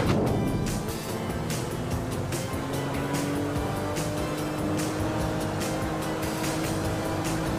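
Steady boat engine drone in GTA V, a continuous low motor hum with water wash and game effects layered over it, loud and unbroken throughout.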